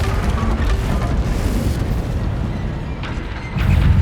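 A Confringo fire spell explodes in the Hogwarts Legacy video game, giving a deep rumbling boom that rolls on for several seconds with a second surge near the end, loud and close.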